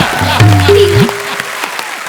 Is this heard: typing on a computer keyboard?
no